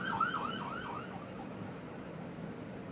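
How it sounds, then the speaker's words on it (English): Emergency vehicle sirens wail outside, a rising and falling tone heard at a distance and fading, over a low steady background hum. "Sorry for the sirens."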